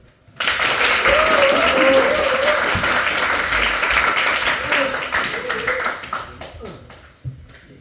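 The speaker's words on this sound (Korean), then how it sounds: "다시 한번 큰 박수" An audience of high school students at a career lecture in Gyeongju gives a big round of applause, loud sustained clapping that tapers off, with a voice speaking over it.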